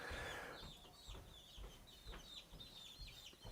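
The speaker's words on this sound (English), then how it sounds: "can you chase the chickens away so they don't eat all this food?" Several chickens cluck near a table of food, with short repeated clucks that rise and fall. They run steadily over a low, busy background.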